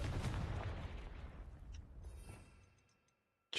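A Confringo blasting spell fired in Hogwarts Legacy, a loud fiery boom that bursts at once and then rumbles away over a few seconds into near silence.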